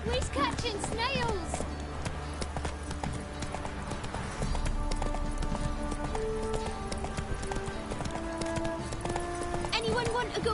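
Roach, the horse from The Witcher 3, gallops with a steady, loud clip-clop of hooves throughout, layered with game music and voices talking over the hoofbeats.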